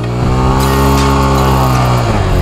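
A motorcycle doing a burnout on a Himachal hillside, its rear wheel slipping under throttle. A loud, steady engine drone with strong harmonics runs throughout and swells with added roar about half a second in.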